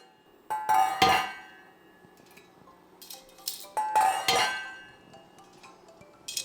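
A pot lid on a pot of laksa noodle soup is lifted and set down twice, each time with a bright metallic clink and rattle, separated by quieter handling sounds.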